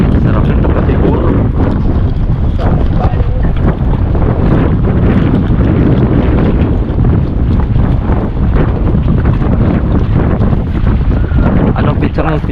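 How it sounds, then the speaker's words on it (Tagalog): Strong wind buffets the microphone continuously aboard a boat out on open water, a dense roar with no breaks. "Lakas ng hangin."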